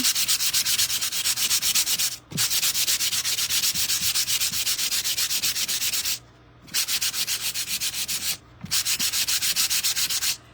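Abrasive sanding on a painted plywood Santa plaque makes close, steady rasping strokes in three long runs, each broken by a brief pause, with no talking.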